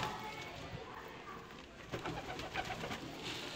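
Pigeons coo softly while feeding on a balcony, low murmuring calls that repeat faintly against steady background noise, with people talking nearby.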